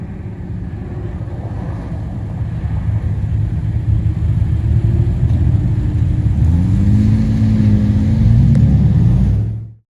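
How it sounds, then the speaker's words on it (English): A 2025 Ram TRX pickup truck pulling away from a stop, its muted exhaust giving a low, steady rumble that builds into a smooth rising drone as it accelerates, heard alone until it cuts off abruptly. "So here goes another clip of this truck going off from a stop to a"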